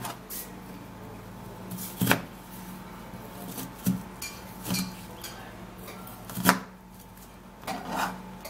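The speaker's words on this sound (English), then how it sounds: "I'm going to be cutting it into pieces like this" A knife cuts an ingredient into pieces during home food prep, giving a few sparse, sharp knocks on a board spread across a quiet background.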